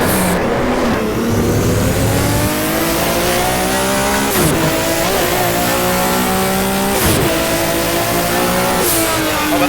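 A BMW M1 race car engine in the rFactor racing game, loud and continuous, revving up through the gears with repeated upshift dips and rising pitch sweeps, plus faint tire noise, with no talking.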